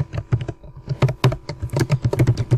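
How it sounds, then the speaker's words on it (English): Rapid, uneven keystrokes on a computer keyboard as Python code is typed, clicking steadily and close by with no talk over them. "So what I'm typing here is the good way."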